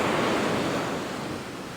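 Atlantic Ocean surf breaks on a windy Portuguese beach, a loud close wash of waves mixed with wind buffeting the microphone, slowly easing, with no voices.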